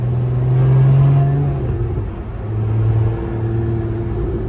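A 2023 Lotus Emira sports car engine revving nearby, a deep rising and falling roar that swells, dips briefly mid-stretch, then holds a steady loud drone.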